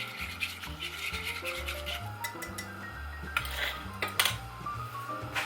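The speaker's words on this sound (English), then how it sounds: "I'm just going to whisk this and bring it to a boil." A whisk scrapes and rubs steadily inside a pot of white lasagna sauce being brought to a boil, with soft metallic ticks, all under continuous background music.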